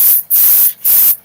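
A hobby airbrush spray gun set up for weathering model locomotives gives three short, loud hissing bursts of spray in quick succession, with brief silent gaps between them.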